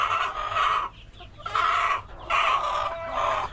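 Chickens clucking close by in repeated bursts of squawky, nasal calls, with short quieter gaps between them.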